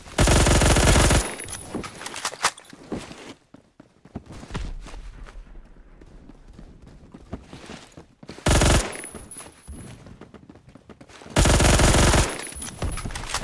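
An M231 assault rifle in Phantom Forces fires in three loud, sharp full-auto bursts with quieter gaps between them. Faint movement and footstep-like sounds fill the pauses.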